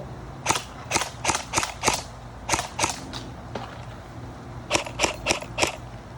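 A CYMA airsoft AK-47 running on an 11.1V battery fires at a brick wall in sharp, snappy bursts: a rapid run of five or six shots, a few scattered single shots, then another tight cluster of four near the end.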